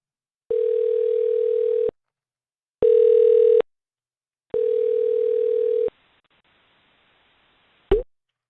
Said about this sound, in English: Try calling him again.